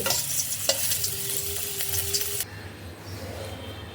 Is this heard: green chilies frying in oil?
yes